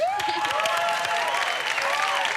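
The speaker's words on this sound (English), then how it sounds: "How about a round of applause?" Steady applause from a crowd, dense clapping with some whistles or cheers mixed in, filling the whole moment without pause.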